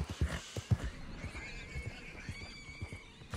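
Horse in the online game Red Dead Online neighing over a background of hoof clip-clops and splashing through murky water, the whinny drawn out and clear in the middle, the hooves thudding irregularly throughout.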